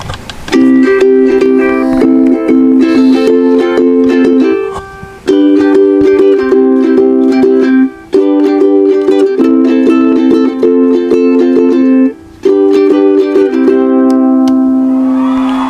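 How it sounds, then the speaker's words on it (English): A ukulele is strummed in repeated chords, bright and close, in phrases separated by brief gaps, with no voices. "I recently got myself a ukulele."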